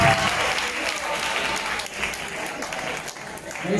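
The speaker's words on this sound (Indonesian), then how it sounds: "Tepuk tangannya yang sangat keras." Audience at an Islamic study gathering in a boarding school hall breaks into loud, sustained applause, a dense wash of clapping from many hands throughout.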